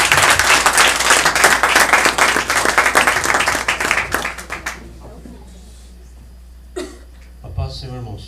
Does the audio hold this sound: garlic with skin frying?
no